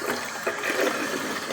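Hot water running from a tap while rinsing a coffee maker's filter holder, a continuous rushing splash with slight fluctuations, close and fairly loud.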